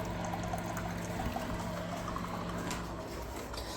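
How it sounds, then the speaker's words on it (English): A half-gallon cleaning solution mixture is poured in a steady, unbroken stream that splashes and gurgles at close range. The flow stays even throughout and no one is speaking. "This may take 3 to 5 minutes of pouring."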